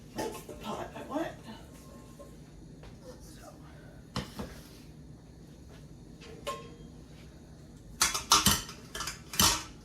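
A cooking pot is pulled out and handled in a home kitchen, with sharp metallic clanks and clatters at the start, midway and in a loud cluster near the end, as someone talks quietly between them.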